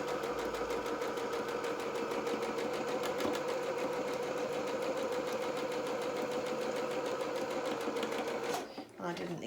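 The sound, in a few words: sewing machine stitching shirt sleeve edge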